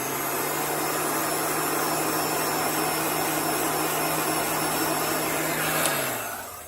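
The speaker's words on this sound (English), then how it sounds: "I'm going to dry this really quickly with a heat gun" Heat gun blowing hot air to dry chalk paint on a paper Christmas tag, a loud, steady roaring whoosh with a constant motor hum that winds down right at the end.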